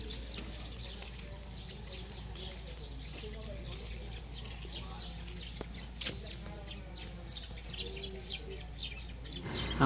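Birds chirp and twitter in quick, scattered bursts at Boracay Back Beach during the quiet off season, moderately close over a steady low rumble of surf and wind.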